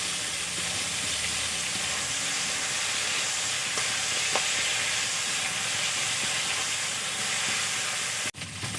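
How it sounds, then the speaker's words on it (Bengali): Prawns frying in hot oil produce a steady, loud broadband sizzle and hiss that runs unbroken throughout, with no talking and a brief drop near the end. "এখন আমি চিংড়ি মাছগুলো দিয়ে দেব। মাছগুলো ভালো করে ভেজে নেব।"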